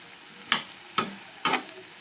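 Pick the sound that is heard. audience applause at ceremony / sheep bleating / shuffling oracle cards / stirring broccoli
stirring broccoli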